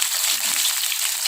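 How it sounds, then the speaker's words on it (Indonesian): Tofu sizzles in hot vegetable oil, a steady, dense hiss and crackle heard close up with no voices. "Lalu kita goreng tahu."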